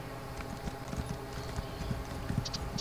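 A horse clip-clops in the Elder Scrolls Online video game, a few quick hoof steps at moderate distance over a soft ambient background.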